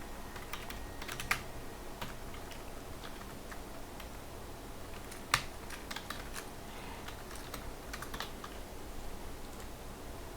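Computer keyboard typing while code is written for a PHP and JavaScript form-submission page, a steady stream of soft key clicks with a couple of sharper taps, close and alone over faint room hiss.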